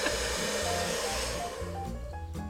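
A hair dryer plugged into the 230-volt socket of a Honda e blows with a loud, continuous whirring roar from close by, its pitch shifting slightly partway through.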